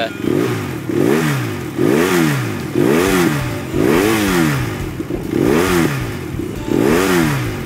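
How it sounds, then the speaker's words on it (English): BMW F800R motorcycle with an aftermarket exhaust revved in neutral on its stand, about seven repeated blips that rise and fall in a steady rhythm, loud and close. "you can feel the bike kind of almost wanting to come forward off the stand there when I rev it up a bit"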